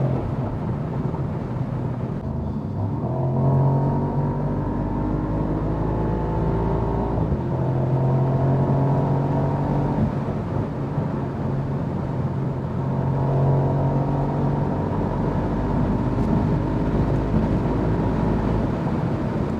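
A Mercedes-AMG SL55 V8 cruises on the Autobahn, a steady loud low rumble with rising harmonic sweeps as it pulls through gears, alone without talk.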